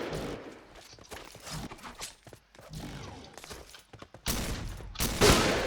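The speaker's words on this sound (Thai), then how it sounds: "โอ้ยิงอีกแล้ว" Rapid bursts of sniper and shotgun fire in the shooter game Point Blank, with a SPAS-15 shotgun in play. Sharp reports crackle irregularly, then two loud, dense blasts land close together near the end.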